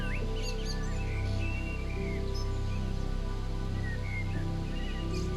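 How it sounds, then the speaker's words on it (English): Gentle birdsong with light, scattered chirps and short tweets coming through over a steady low ambient hum, calm and continuous. "Can you hear the gentle bird echoing around you?"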